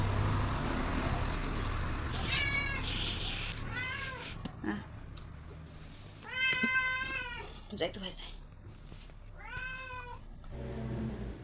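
A pet cat meowing indoors at home, four distinct drawn-out meows spaced a couple of seconds apart, fairly close, with a person speaking briefly and faint traffic noise in the background.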